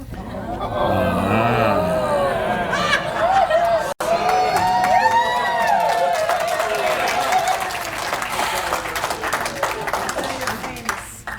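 A large crowd at a Narcotics Anonymous convention breaks into sustained applause with cheers and whoops, loud and continuous for several seconds, with voices mixed throughout.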